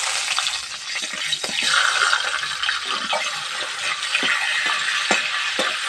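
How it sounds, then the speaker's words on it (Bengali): Salted, turmeric-rubbed fish heads frying in hot mustard oil give a steady close sizzle and hiss, with small pops and crackles scattered throughout and no talking. "একটু ভেজে নেবো লাল লাল করে"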